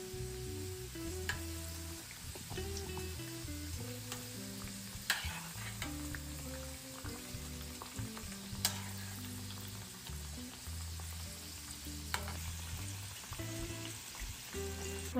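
Pitha fry a few at a time in hot oil while being stirred, giving a faint, steady sizzle punctuated by occasional sharp clicks and scrapes.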